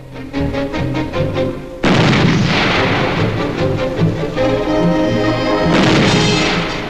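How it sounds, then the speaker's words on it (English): A Swedish self-propelled artillery gun fires conventional shells, heavy booms and crashing blasts coming in quick succession over a constant rumbling roar, loud and close. "the self-propelled weapon is demonstrated using conventional shells"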